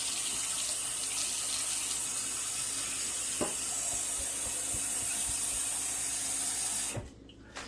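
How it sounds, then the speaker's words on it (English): Steady rushing stream of water pouring into a kettle for about seven seconds with a couple of light clinks, then it cuts off abruptly. "I'll add a little bit of water."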